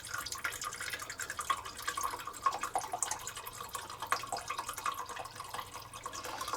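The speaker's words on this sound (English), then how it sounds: "we have a half a cup or 4 ounces of dark rum" Dark rum poured from a bottle into a measuring cup for Puerto Rican coquito, a soft, close, continuous trickle with light splashing.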